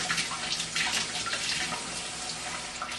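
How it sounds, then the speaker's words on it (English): A denture is rinsed under a running tap at a sink, a continuous, fairly soft hiss of flowing water with faint splashing and no voices. "You're going to rinse the denture,"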